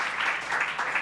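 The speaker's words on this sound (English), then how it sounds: "Let's give a very round of applause" Steady audience applause at a Musical Monday show, a dense wash of clapping holding at an even level through the whole short stretch with no break.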